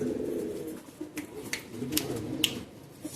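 High-flying Madrasi pigeons in a Kolkata loft give low, throaty coos in short repeated bursts close by, with a few sharp brief rustles or wing flicks between them.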